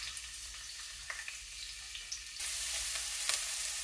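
Food fries in hot oil with a soft, low sizzle and scattered faint pops, growing a little louder and denser partway through.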